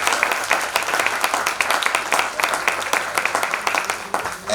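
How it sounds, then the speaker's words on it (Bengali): Dense, steady applause from an audience after a Rabindra Nritya dance group's performance, many hands clapping continuously and fairly close throughout. "এবারে সকলের জন্য একটা জোরে হাততালি।"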